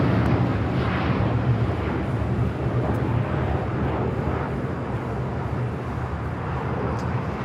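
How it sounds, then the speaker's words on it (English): Japan Airlines flight 69 airliner departing LAX for Osaka, a steady broadband jet roar that holds loud throughout without a break, blended with low rumbling airport background. "Japan Airlines heading back to Osaka, Japan, flight 69"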